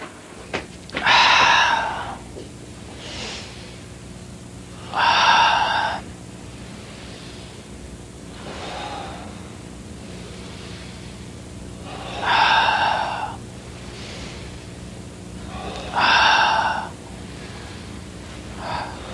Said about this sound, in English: do the spinal cord breathing for a few times